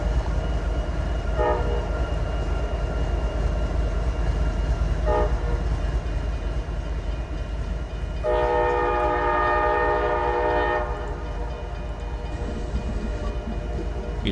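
Train horn blasts sound in a small Georgia town and echo off flat-walled buildings in the Sunday morning quiet: two brief toots, then a longer blast around two seconds, and a faint reflected repeat, under a steady rail rumble.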